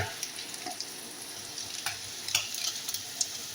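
Sautéed garlic is added to a pan and sizzles with a faint, steady frying hiss, with light scattered clinks and stirring noises and no voices.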